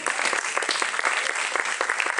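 A theatre audience applauds the cast after a performance of a play, dense continuous clapping from many hands, loud and sustained without any voice over it.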